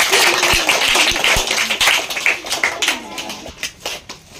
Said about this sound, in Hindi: और जोरदार ताली बजा दीजिए।